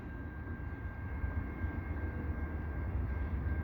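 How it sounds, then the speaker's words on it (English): A distant Via Rail LRC passenger train approaches near the Lachine Canal bridge in Montreal, a low, steady rumble growing slightly louder with a faint high tone above. "it sounds like I'm gonna have a Via train"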